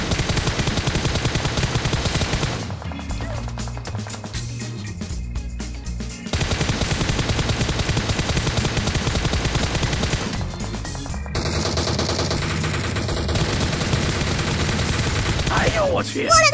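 Rapid automatic gunfire rattles from a shooter video game in long loud bursts, broken by short pauses and a gap before a final burst, with game sound effects in between.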